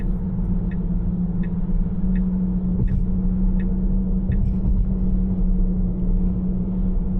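A fake exhaust sound plays inside a Tesla accelerating on a freeway, a steady low droning hum heard in the cabin over constant road rumble, with faint regular ticking throughout.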